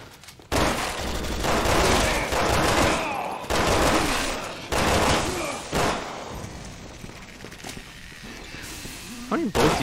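Gunfire in the video game Resident Evil 6, with loud, sustained automatic bursts and heavy shot blasts. Breaks are brief and the firing sits over game noise and a player's voice.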